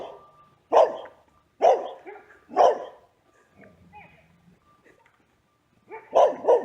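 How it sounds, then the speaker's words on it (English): A dog barks in a few sharp, loud bursts spaced about a second apart, then falls quiet and whimpers softly before two more close barks at the end. "I'm having a full-blown conversation with a dog."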